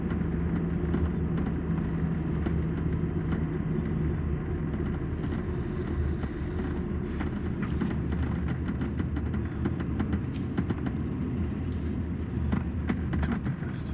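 Heavy farm tractors rumble past on a rural road in Belgium, a steady low engine drone that stays loud and close throughout with no talk.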